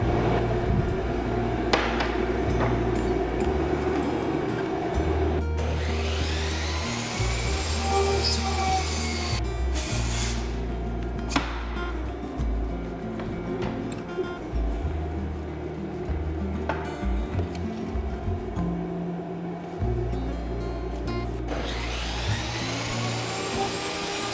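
A power saw trims a solid wood board for a log holder, its loud, steady whine running almost the whole time with brief dips and spin-ups, close by, with no voices.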